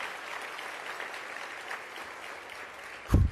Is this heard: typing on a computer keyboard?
no